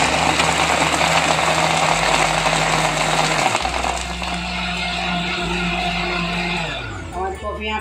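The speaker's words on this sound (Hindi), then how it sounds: "हम मिक्सी ऑन करेंगे।" A kitchen mixer grinder whirs loudly while blending cold coffee with ice and sugar, a steady, close motor roar that shifts pitch as it runs and winds down at the end.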